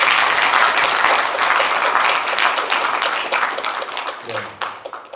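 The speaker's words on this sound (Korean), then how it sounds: "정말 박수 한번 쳐주세요." Audience applause at a town hall meeting, a dense burst of many hands clapping that holds steady then tapers off, with a voice briefly emerging near the end.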